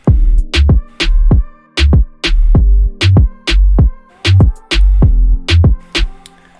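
Heavy 808 bass hits returning in a trap-style FL Studio beat, booming low notes with pitch glides repeating in a steady pattern alongside crisp percussion and a quiet melodic layer, loud and upfront with no voices.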